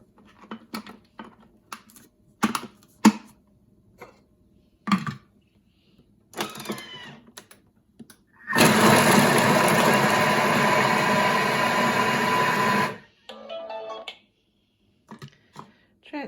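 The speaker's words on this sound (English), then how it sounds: "Insert the measuring cup into the lid and chop for 4 seconds on speed 5" Kitchen food processor chopping salad vegetables with apple at speed 5, a loud whirring burst of about four seconds, preceded by clicks and handling sounds of the lid and measuring cup, then a brief rattle after it stops.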